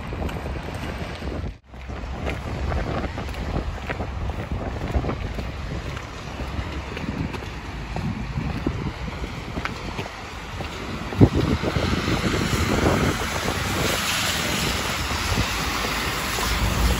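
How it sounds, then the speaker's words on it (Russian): Strong wind in Norilsk buffets and roars continuously, with gusty rumbling across the microphone and a watery, open-air wash, no voices present. "Дует ветер, ветерок."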